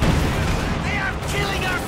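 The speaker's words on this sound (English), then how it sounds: "Why are they shooting at us?" Gunfire and explosions rumble in a Company of Heroes 2 battle, a dense loud barrage with a voice talking over it.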